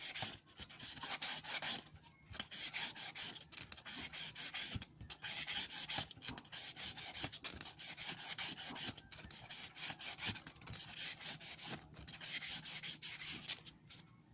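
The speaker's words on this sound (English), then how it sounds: "just sand this back to back here" Sandpaper rubs steadily back and forth on a part of an RCA Victor 45 record changer, a fast, even rasping stroke close to the ear with only brief pauses.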